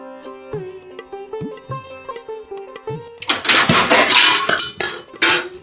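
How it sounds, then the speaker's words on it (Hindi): Dishes and utensils clatter in a home kitchen as food is served, with a burst of loud, overlapping metallic clinks and knocks that follows a quieter passage of ringing tones. "अलग अलग बर्तन काहे कर रहे हो तुम लोग?"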